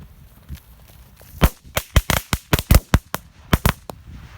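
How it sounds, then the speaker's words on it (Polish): A rapid string of sharp firecracker bangs goes off close by, about a dozen irregular pops in quick succession. "Petarda wybucha mi właśnie obok ucha."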